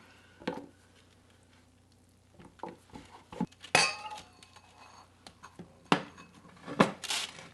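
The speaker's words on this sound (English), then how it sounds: "I'm taking the big container for the Vitamix and adding the vegetables" Cooked vegetables and cashews tipped into the large Vitamix blender container, giving scattered clinks, knocks and soft thuds of food and utensils against the container, with several louder bursts near the end.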